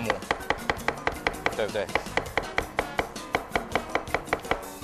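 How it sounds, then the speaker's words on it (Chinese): A kitchen knife chops rapidly and evenly on a cutting board, mincing an ingredient with a steady run of sharp, close knocks, while a person speaks briefly. "这个一样把它切末"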